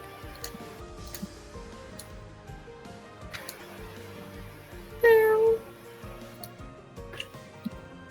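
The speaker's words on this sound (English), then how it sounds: "A meow sounds from the front of the room." A cat meows once from the front of a room where people are gathered for a tabletop role-playing game, a short, clear cry rising above quiet background ticks and shuffling.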